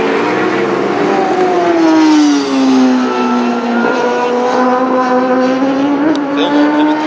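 A KTM superbike races around the Sonoma circuit, its loud engine holding a strong, steady tone that dips slightly and then climbs again as it passes close by, with no other sound.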